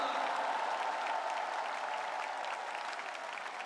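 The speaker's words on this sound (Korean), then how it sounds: "박수 한번 부탁드립니다." A large audience at a party convention applauds the candidates, a continuous, even roar of many hands clapping that is heard from a distance and stays level throughout.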